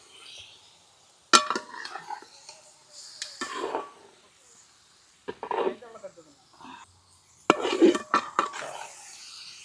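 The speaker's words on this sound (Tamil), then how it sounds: "கரண்டி வச்சு மேலேயும் கீழே மாட்டு." A ladle scrapes and clanks against a pot while country chicken is stirred for a village-style biryani, with sporadic metallic bursts separated by quiet gaps.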